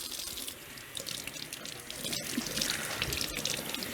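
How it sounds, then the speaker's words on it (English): Tap water runs into a kitchen sink while a pasture-raised chicken is rinsed, a steady close splashing rush that swells slightly toward the end, without speech. "Get some water running"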